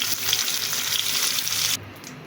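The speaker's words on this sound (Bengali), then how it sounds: "আলুটাকে আমি একটু রেখে দিলাম ভাজার জন্য।" Potato pieces fry in hot oil for a pangas fish curry, giving a steady, close hiss that cuts off abruptly just before the end.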